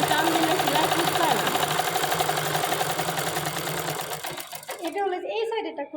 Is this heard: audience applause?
no